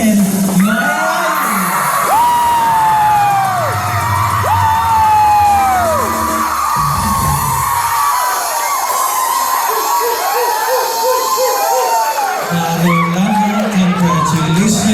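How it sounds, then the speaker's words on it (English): Audience at a Tausala and Manaia competition yelling, whooping and cheering, with loud shouts and rising calls over crowd noise and an amplified voice speaking at times, close and continuous across the stretch. "Ladies and gentlemen, a round of applause for Martin Maiai"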